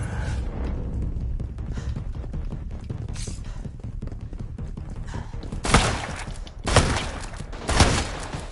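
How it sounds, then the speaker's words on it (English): Shotgun blasts in the video game Resident Evil RE: Verse, three loud sharp bursts in the last few seconds over steady rumbling game ambience. "That shotgun, man, oh my god."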